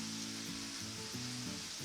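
Spring onion goes into a pan where garlic tiger prawns are frying, giving a steady, close sizzle with faint stirring underneath and no voices.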